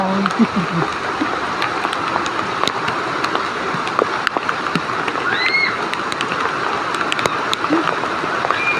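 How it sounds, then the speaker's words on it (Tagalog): Heavy rain pours in a dense, continuous hiss with scattered sharp drips and splashes, steady and fairly loud throughout. "Malakas ang ulan"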